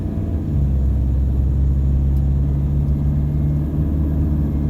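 Toyota Hilux engine running after its injectors were replaced, a steady, deep low rumble heard from inside the moving vehicle, even and continuous with a slight lift in load partway through.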